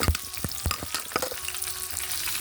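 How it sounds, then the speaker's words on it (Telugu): Onions, green chilies and garlic frying in a pan, a close crackling sizzle broken by sharp stirring knocks against the pan, tapering into a steadier hiss. "ఉల్లిపాయలు, పచ్చిమిరపకాయలు, వెల్లుల్లిపాయలు వేగింది కదా"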